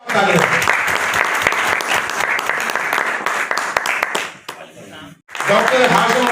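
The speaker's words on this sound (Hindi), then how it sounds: "जोरदार तालियां।" Loud, sustained crowd applause at a large Sheikh Masoodi community gathering in Meerut, dense clapping for about four seconds that briefly dies away before a voice comes back loudly at the end.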